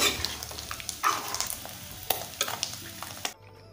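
Leftover taro and meat curry reheats in a pan, giving a close, steady sizzle with scattered stirring scrapes and small pops throughout, fading out abruptly near the end.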